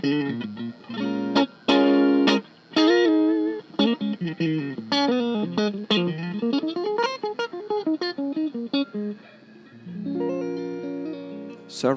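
Electric guitar giving a vintage 1950s Strat tone, played close as single notes, slides and ringing chords, with a few quick gaps and a sustained chord at the end.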